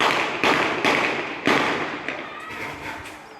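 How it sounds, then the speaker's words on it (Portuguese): Gunshots fired at a victim, captured in news footage: four or five sharp reports in quick succession, then fainter distant pops as the sound fades. "Depois, voltam a atirar com tudo."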